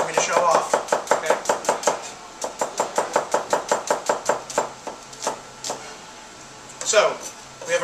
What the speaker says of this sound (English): we're just going to julienne our onion